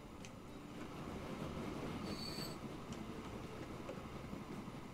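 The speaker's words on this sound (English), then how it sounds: "this train has just pulled out" A passenger train pulls out in the rail-management game Transport Fever 2, giving a steady low rolling rumble with faint wheel clicks and a brief high metallic squeal partway through, heard alone.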